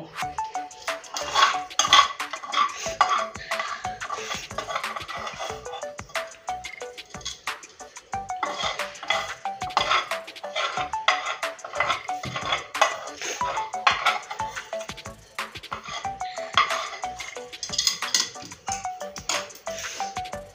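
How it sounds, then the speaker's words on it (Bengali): Taro leaves being ground by hand on a flat grinding stone with a stone roller (shil-nora), a steady run of close, rough scraping and knocking strokes that keeps going without a break. "এবার এই কচু শাকটা বেটে নেব শিলনোড়াতে"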